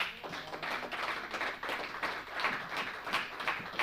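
Church congregation applauding, a dense steady patter of many hands clapping, moderately loud and continuous throughout.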